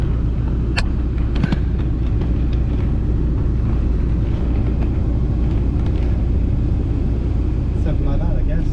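A Renault Clio 4 RS on a test run in hot weather, its engine producing a loud, steady low rumble throughout, with faint clicks and rattles on top.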